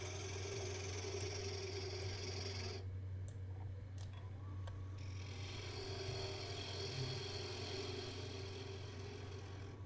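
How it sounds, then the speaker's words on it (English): A bowl gouge hollows out a wooden candy bowl spinning on a lathe, giving a steady continuous tonal hum with a broad hiss of cutting that drops out briefly midway and then resumes. "Coming in there with the bowl gouge to hollow it out just a little bit."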